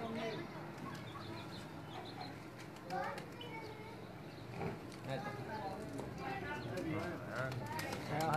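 Pigeons coo softly amid a busy outdoor background, with faint wing flutters and people's voices murmuring nearby.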